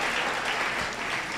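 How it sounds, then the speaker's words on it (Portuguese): A church congregation claps together, a short burst of steady dense applause filling the room. "Vamos aplaudir ao Senhor pela nossa irmã?"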